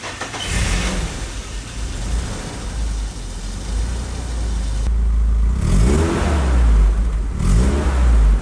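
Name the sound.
BMW E30 car engine accelerating on a test drive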